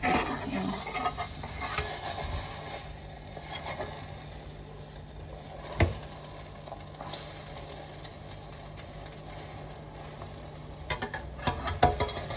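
Steady sizzle of a breakfast pancake frying in a pan, a continuous hiss with faint stirring and scraping, plus a few sharp utensil clicks near the middle and end.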